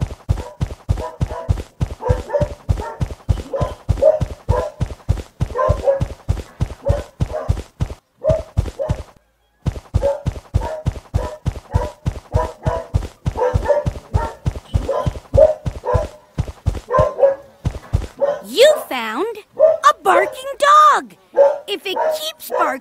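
Cartoon dog barking in the Cyberchase video game, a long string of evenly spaced, close barks that runs for most of the stretch, breaks off briefly midway, then gives way to a voice speaking near the end.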